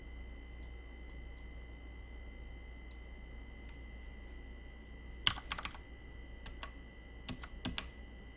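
Typing on a computer keyboard, heard as faint scattered key clicks, then a short fast burst of keystrokes and a few more taps over a quiet steady background hum.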